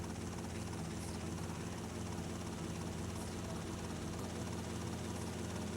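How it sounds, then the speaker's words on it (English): Helicopter flying in GTA: Vice City Stories, a steady loud rotor and engine drone with dense broadband whir, continuous and unchanging throughout. "I'm gonna have to get a new helicopter after this."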